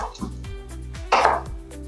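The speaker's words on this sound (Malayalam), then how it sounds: "അപ്പൊ ഇനി നമുക്ക് കുറച്ച് ഉരുളക്കിഴങ്ങ് അരിയാം." Potatoes are chopped with a knife on a board, a few sharp close thuds with one louder cut near the end, amid kitchen hum.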